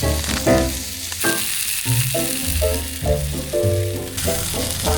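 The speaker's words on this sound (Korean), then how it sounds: "오늘의 메뉴는 삼겹살인데 한번 구워서 먹어보려고 합니다." Pork belly sizzles and crackles on a grill at a seaside campsite in Canada, a loud, continuous frying hiss under melodic background music.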